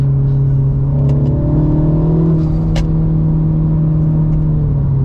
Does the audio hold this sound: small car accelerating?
yes